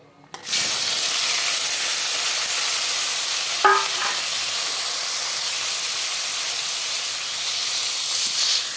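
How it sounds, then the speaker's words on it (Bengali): Sliced onion and dried fish tipped into hot cooking oil burst into a loud, steady sizzle that carries on alone, with a brief clatter of stirring partway through. "এখন পেঁয়াজ আর শুটকিগুলোকে ঢেলে দেবো"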